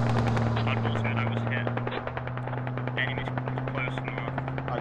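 Rapid machine gun suppressive fire in a military video game, many sharp shots in quick succession over a steady low engine hum, with a voice talking at times.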